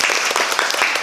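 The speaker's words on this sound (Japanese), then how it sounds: "それでは拍手で始めたいと思います。" An audience at a therapist festival event in Japan applauds, a dense, close burst of many hands clapping that fills the whole moment.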